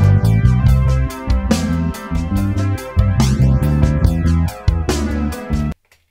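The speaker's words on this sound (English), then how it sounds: "I've simply duplicated it and put a modulated delay plugin across the duplicate" A music track blended with a duplicate copy run through a modulated delay plugin, giving a sweeping, swirling flanger-like comb effect over steady beats and chords, loud and continuous before stopping abruptly near the end.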